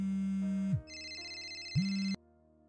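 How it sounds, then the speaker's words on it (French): A phone ringtone in The Sims 4 plays as a loud synthetic electronic tune with sustained tones and a pitch drop, then cuts off abruptly. "mon téléphone s'est mis à sonner"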